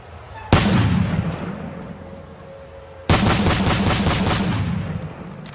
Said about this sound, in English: The sound of gunfire continues to be heard throughout Cameroon's English-speaking regions.